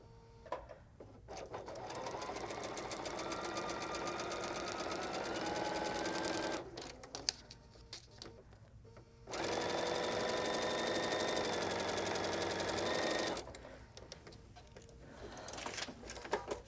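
A sewing machine stitches foundation paper piecing in two long runs of steady, rapid whirring with a quiet pause between them, close and without talk.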